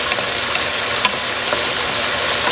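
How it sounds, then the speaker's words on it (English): Garlic frying in the same oil in a pan, where meat was just cooked before its leftover marinade goes in. A dense, even, loud sizzle runs throughout with faint clinks and no talking. "in the same pan, the same oil, we put the garlic"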